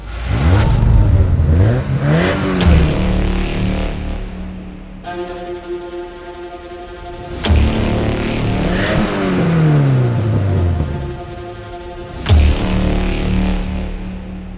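A 2007 naturally aspirated Subaru Legacy wagon with an aftermarket axle-back exhaust revs hard several times, the exhaust rumbling and rising in pitch with each burst, then settling into a steady idle between pulls.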